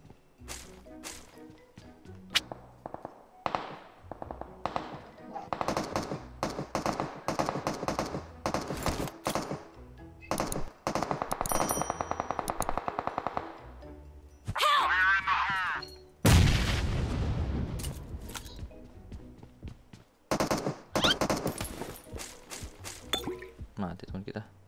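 Gunfire in the game PUBG comes as sharp cracks and bursts of shots, some rapid, some isolated, scattered through the stretch among players talking.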